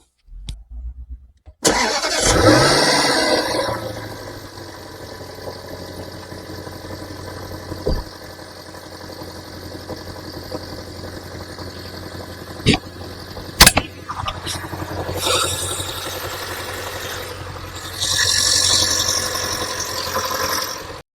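A Range Rover L322 engine cranks and catches, then settles into a steady idle close by, with a few sharp clicks and door sounds partway through.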